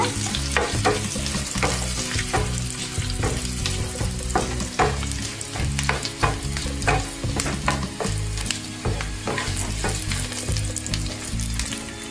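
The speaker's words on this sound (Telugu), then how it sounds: "ఇప్పుడు ఈ జీడిపప్పు కూడా కొద్దిగా వేగాక" Cashew nuts frying in oil in a pan for carrot rice, a steady loud sizzle broken by repeated scraping stirs throughout, with no voices.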